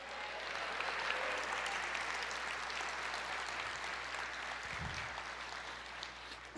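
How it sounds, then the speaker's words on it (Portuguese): A church congregation applauds the Lord in a steady, fairly quiet wash of clapping that continues evenly, with a faint low thump near the end. "Quem pode aplaudir o Senhor e dizer glória a Deus?"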